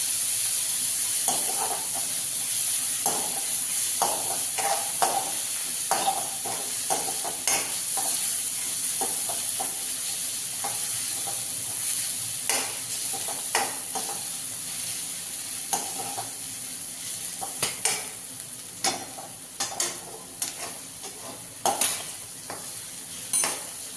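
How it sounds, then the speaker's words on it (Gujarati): Carrots and cabbage cooking over a high gas flame for manchow soup, a steady sizzling hiss with repeated scraping stirs of a spatula against the pan, close and continuous without talk. "ગાજર નાખી દઈશું અને હાઈ લેવલ પર આપણે એને ચડવા લાવશું"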